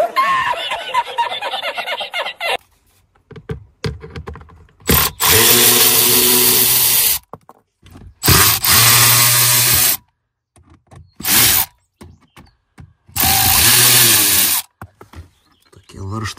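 Power screwdriver driving screws into a car's dashboard panel while fitting a switch, several loud whirring bursts of a few seconds each, separated by short pauses and clicks, with talking at the start.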